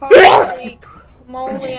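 A single sharp human sneeze, loud and close, bursting out at the start, followed by a short exclaimed remark from the same person.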